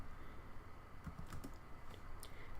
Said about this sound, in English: So I'll type in Ansible